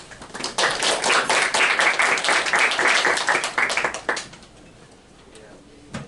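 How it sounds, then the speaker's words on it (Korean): Audience applause at an academic presentation on the value of curtailed power output: a dense wash of clapping hands for about four seconds, then fading to quiet room tone with a brief bump at the end. "큰 박수 부탁드리겠습니다"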